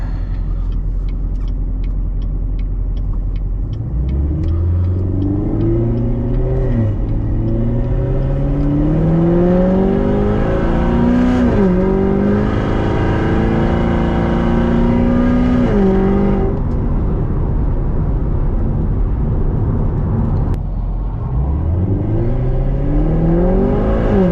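A Chevrolet Corvette C7 Z51 V8 engine builds revs under throttle in repeated rising pulls through the gears, loud and close inside the car, a deep rumble climbing in pitch then dropping back, with no talking.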